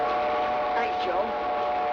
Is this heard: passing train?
yes